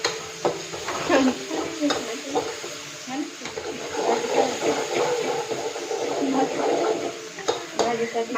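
Methi chicken being stirred in a pan in a home kitchen, with scraping and soft sizzling swishes coming in irregular strokes under someone talking.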